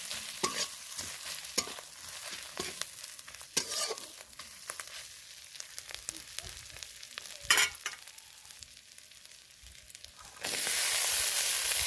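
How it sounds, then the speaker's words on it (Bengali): Figs are stirred and fried in an oily red-chilli spice paste in a pan, giving a steady sizzle broken by scraping stirs. A louder, even hiss swells near the end. "ডুমুরগুলো দিয়ে দিলাম আর ভালো করে কষাবো আমি মশলার সাহায্যে"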